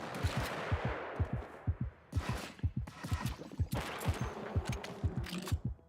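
Rapid bursts of gunfire from the video game Project Warlock 2 as the player strafes and shoots, with dense repeated sharp shots in uneven clusters, loud and continuous with no pauses.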